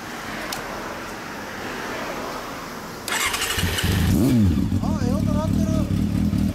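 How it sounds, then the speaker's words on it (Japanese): A Honda CB400 Super Four Hyper VTEC Spec3 (NC39) motorcycle with a Moriwaki Racing exhaust cranks and catches after a few seconds, then idles with a steady throaty rumble as people talk over it. "ほんとエンジンをかけてもらえるかな。"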